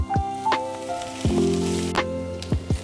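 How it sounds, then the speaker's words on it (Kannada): Coconut and onion frying in a pan for a Karnataka-style chicken saaru, a steady sizzle with a few sharp clinks and scrapes of a spoon against the pan, close and moderately loud. "ಅದಕ್ಕೆ ನಾನು ಈ ತರ ತೆಂಗಿನಕಾಯಿ ಮತ್ತೆ ಈರುಳ್ಳಿನ ಈ ತರ ಫ್ರೈ ಮಾಡ್ಕೊತೀನಿ"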